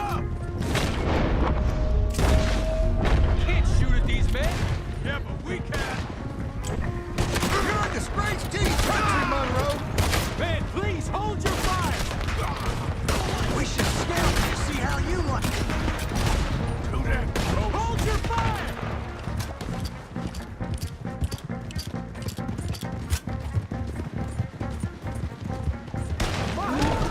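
Dense, continuous gunfire and booming impacts from a Wild West shootout in Red Dead Redemption 2, with sharp shots overlapping throughout the whole stretch while people talk over the chaos.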